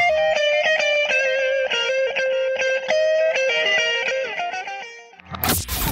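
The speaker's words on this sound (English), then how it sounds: "First up, we have the electric guitar. It makes cool sounds when you strum the strings like this." Electric guitar strummed in a quick run of bright, distorted chords, loud and steady, ending in a short burst of noise.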